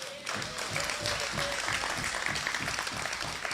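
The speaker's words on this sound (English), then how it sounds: "I want us to give them a round of applause." A meeting audience applauds Olympians with steady, dense clapping that starts after a brief pause and continues throughout at a moderate level, heard from within the room.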